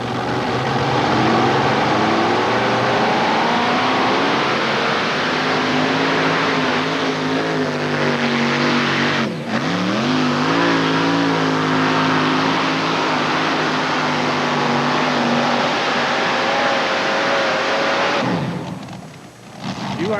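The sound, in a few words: pulling tractor engine roaring at a tractor pull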